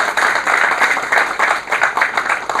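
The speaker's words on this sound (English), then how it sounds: "I request all of you to have a round of applause for Ladani ji" Loud, close, rhythmic clapping from an audience at a government awareness session on trade and industry incentive schemes in Gujarat, welcoming a speaker.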